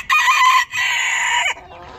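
A backyard-coop chicken in a city-centre henhouse gives two close, loud clucking calls, the second ending in a falling squawk, with no talk.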